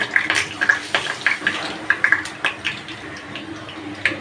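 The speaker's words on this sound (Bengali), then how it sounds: "এখন আমি একটা একটা করে বেসনে ভরিয়ে ভরিয়ে ছেড়ে দেবো তেলের মধ্যে" Battered pumpkin flower fritters in gram flour batter hit hot oil one after another, each drop giving a sharp sizzling burst in an uneven rhythm before settling into a softer steady frying hiss.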